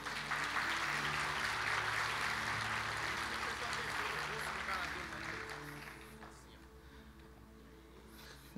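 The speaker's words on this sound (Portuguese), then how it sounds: "Dê um aplauso a Ele." Congregation applause at a church service, a dense, steady clatter of many hands that fills the space, then eases to a softer patter in the last few seconds.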